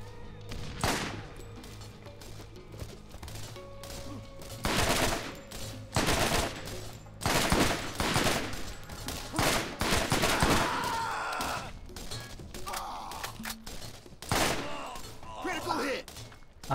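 Gunfire from a weapon in the Borderlands video game: repeated sharp shots in uneven bursts over a steady game soundscape, with a voice talking now and then between the shots.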